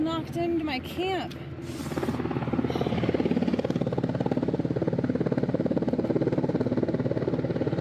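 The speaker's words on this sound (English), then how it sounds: "This helicopter just flew in and knocked over everything" A helicopter flies in and lands close by at a trail campsite, its loud, steady rotor thrum building and holding after a few seconds of excited shouting.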